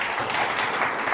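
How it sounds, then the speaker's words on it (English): Brief burst of continuous audience clapping at a youth forum, a dense steady patter with no gaps, moderately loud and heard alone. "Let's clap for them."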